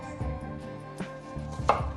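A kitchen knife cuts through a garlic bulb on a board, halving it for a cooker. Several sharp, close chopping thuds sound at a moderate volume over a steady low background hum, with no voices.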